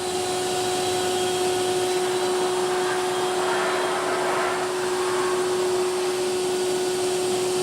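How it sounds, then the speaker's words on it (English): A 1/4 inch router runs continuously at high speed, cutting a slot into a cabinet side for a 1/4 inch back panel, giving a steady, loud whining roar with a constant tone throughout and no talking. "it's a 1/4 inch router that's routing that in there"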